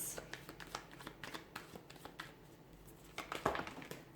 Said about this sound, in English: Cards are just flying out.